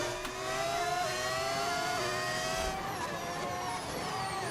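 Screaming V6 hybrid engine of an F1 car in the racing game F1 25, held at high revs with rising and falling gear-change pitch sweeps and a faint whir, loud and steady with no talk over it.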